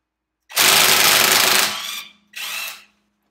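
A Ryobi ONE+ R18IW3-0 cordless impact wrench on setting 2 hammers loudly up close in a long rattling burst of more than a second, then pauses and fires a second, shorter burst.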